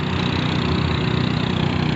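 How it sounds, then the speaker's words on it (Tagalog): A fast boat's loud, noisy engine drones steadily and close by, a rough continuous mechanical hum with no pauses or voices. "Pero maingay yung makina niya, ganun pala yun."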